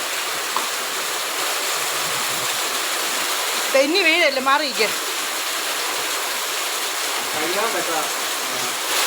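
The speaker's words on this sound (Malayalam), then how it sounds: "നല്ല അടിപൊളി കാറ്റും മഴയുമാണ്" Heavy rain pours in a constant hiss, with gusty noise over it; a person speaks briefly in the middle and again near the end.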